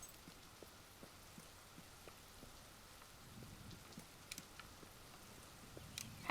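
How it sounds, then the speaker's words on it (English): Steady rain falls in the video game Fable 3, heard while standing beneath a roof at the castle: a soft, continuous patter with scattered drips, moderately faint and with no talking. "How is it raining and I'm under a roof? It's magic rain."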